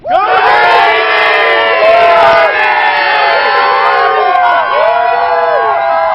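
Crowd of Navy football fans cheering at Qualcomm Stadium after a 17-16 win, loud continuous shouting and whooping from many voices close by.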